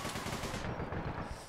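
Sustained automatic gunfire rattles in the online shooter APB: Reloaded, a dense continuous burst of rapid shots, loud and close, filling the whole moment without speech over it.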